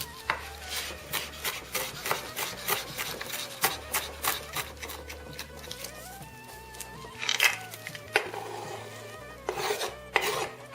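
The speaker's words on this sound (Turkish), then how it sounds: "Şimdi dereotunu doğruyoruz." Rapid, repeated knife chops on a board as dill is cut, a steady rhythmic rasping tapping close by with some clatter, music playing underneath.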